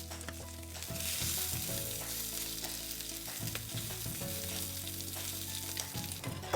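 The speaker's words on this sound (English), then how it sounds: "Drop them in and fry around 1 to 2 minutes on each side." Pierogi fry in an oiled pan with a steady, close sizzle, broken by a few soft thuds and stirring movements, fairly quiet overall and without any voices.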